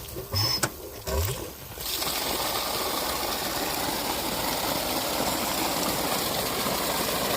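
After a couple of brief knocks at the start, water driven by a 7.5 motor flows steadily through a field channel, a constant close rushing stream with a faint engine hum underneath and no voices.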